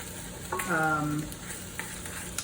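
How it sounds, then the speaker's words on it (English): Onions cook in a pot for rich beef stock, a soft sizzle under a brief stirring scrape, with a short tonal squeak and a few light knocks against the pot. "And now I'm supposed to stir and then let it cook for another"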